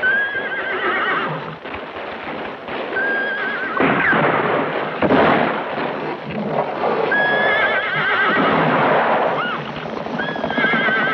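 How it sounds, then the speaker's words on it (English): Horses whinny several times amid a steady clatter of hooves and general commotion, with no talking. "Ramon, Jose, let the horses out of the barn."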